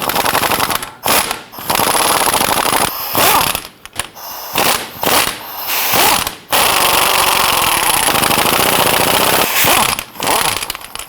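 Rapid, loud bursts of power-tool rattling, separated by short pauses, as a number 8 Allen socket drives out the bolts at the rear of the front drive shaft on a 2011-2021 Jeep Grand Cherokee 3.6L V6.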